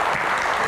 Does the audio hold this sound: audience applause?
yes